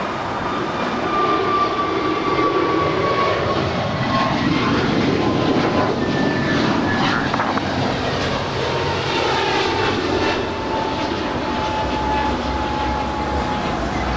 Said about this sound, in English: That is an American A321neo departing to Kailua, Kona, flight 59.